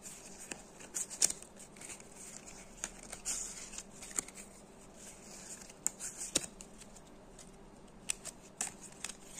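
A deck of game cards for the Sovereign of Discord board game being shuffled by hand, with quiet, irregular riffling clicks and soft patters in short bursts, close and faint, no voices.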